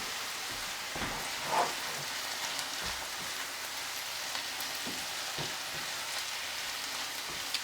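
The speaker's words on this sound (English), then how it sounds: "So the onions are lightly sauteed." Onions lightly sautéing in a pan for a marinara sauce give a soft, steady sizzle and crackle, fairly quiet and close, with a few scattered stirring clicks and taps.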